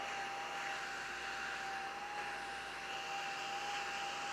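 A small desktop vacuum cleaner running with weak suction gives a faint, steady whirring hum with a thin high motor whine, constant and unbroken throughout.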